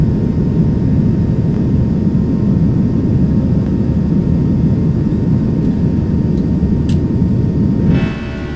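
Simulated roar of an FF A320 airliner climbing after takeoff in X-Plane 11, a loud steady broadband engine rumble running continuously until it drops slightly near the end.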